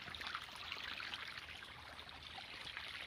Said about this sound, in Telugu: నీళ్ళు ఎంత మంచిగా వస్తున్నాయి చూసిరా.